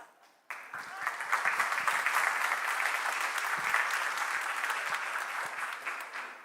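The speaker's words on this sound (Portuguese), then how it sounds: "Vamos dar um aplauso ao Senhor." A church congregation breaks into steady, dense applause that starts abruptly and continues evenly, many hands clapping together in a reverberant hall.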